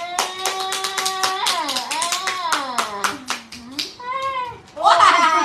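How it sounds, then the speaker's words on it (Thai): Young children clap their hands in quick, even beats while a voice sings or speaks loudly over them, and the claps are crisp and close, fading in and out across several seconds. "ปรบมือปรบมือ"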